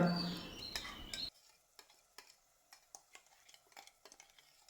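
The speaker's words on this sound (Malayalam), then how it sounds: "ഇനിയിപ്പോൾ ഈ മസാല ചേർത്ത് നല്ലോണം ഒന്ന് വഴറ്റിയെടുക്കുക കേട്ടോ" Tomato, chili and turmeric masala being sautéed in a pan for fish curry, with a brief loud sizzling burst at first, then a steady run of distinct scraping and clinking spoon strokes against the pan.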